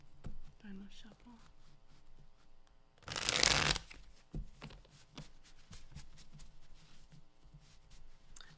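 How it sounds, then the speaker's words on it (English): Tarot cards are shuffled in one loud, brisk riffle lasting about a second, with quiet speech and soft whispering around it indoors. "Final shuffle."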